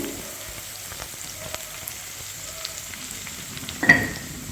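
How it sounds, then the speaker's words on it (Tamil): Coriander stems and green chillies sautéing in a pan, with a quiet, even sizzle and a few light stirring ticks, then a short louder scrape near the end. "மல்லி இலை காம்பு, 2 பச்சை மிளகாய் இதை நல்லா வதக்கிக்கங்க"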